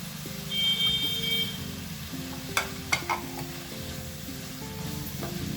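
Grated coconut and coriander leaves go into a hot pan together, giving a quiet steady sizzle with a couple of sharp utensil clicks, over a low droning hum from the kitchen.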